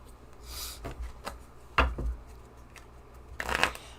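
Oracle blessing cards being shuffled in the hands, a few soft papery riffles and slaps spread across a quiet room, close and moderately loud with no talking.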